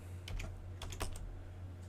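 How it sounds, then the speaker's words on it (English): Data is entered on calculator keys as a few soft, close clicks in small bursts over two seconds, faint against a low background hum. "all you do is you type in your data"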